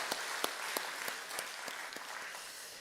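A church congregation applauds during a Sunday worship service, a steady wash of many hands clapping at moderate, somewhat distant volume, with a few sharper claps standing out and no one speaking over it.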